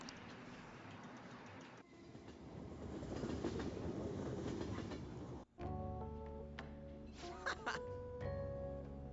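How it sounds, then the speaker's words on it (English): Train ride in the video game Persona 5 Royal: a steady rumble of rail cars with clickety-clack wheels rises and fills the clip. After a brief cut, the sound shifts to a tonal, ringing hum of the moving train. "So let's take the train over there."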